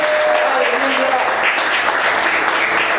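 A church congregation claps in worship, a continuous dense patter of many hands at a steady level, with faint voices mixed into the crowd.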